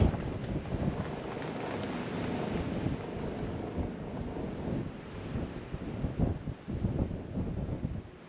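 Wind buffeting a microphone at an outdoor rifle range during an NRL22 match, a steady rough roar with gusty swells and low rumbling bursts that strengthen near the end.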